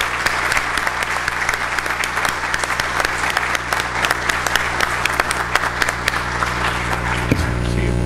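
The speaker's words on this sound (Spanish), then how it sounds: "Pedimos un fuerte aplauso para ambas autoridades." A large audience at a university honorary doctorate ceremony applauds steadily and loudly, sustained clapping filling the room throughout.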